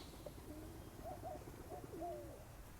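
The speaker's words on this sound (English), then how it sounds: "why are all these birds coming?" Soft, faint pigeon coos repeat a few times over a low background hum outdoors in Monterrey, Mexico, with no one speaking.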